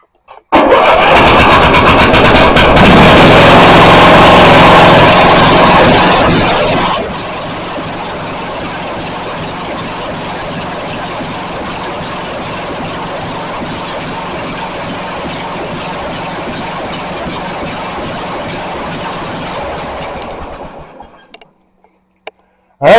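A Toro Time Cutter riding mower with a missing muffler gasket cranks and catches, roaring loudly for several seconds, then settles into a steady, rattly idle before shutting off into silence.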